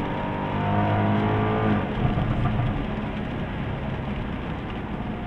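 A 2017 Jaguar F-Type SVR drives a wet Road America race track, its engine roaring loud and close in a steady drone that shifts pitch as it heads into a chicane.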